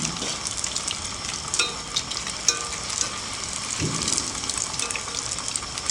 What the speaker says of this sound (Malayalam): ഇത് എണ്ണ ഇങ്ങനെ കുറേശ്ശെ കോരി ഒഴിച്ചു കൊടുക്കണം ഇതിൻ്റെ മുകളിലോട്ടെ.